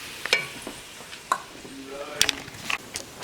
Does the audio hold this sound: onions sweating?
yes